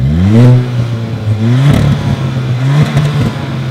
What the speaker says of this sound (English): For instance, the turbocharged Veloster here, very nice exhaust sound.